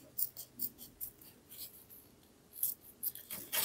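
Scissors cut through nail silk in a series of faint, crisp, close snips, irregularly spaced with short quiet gaps between them.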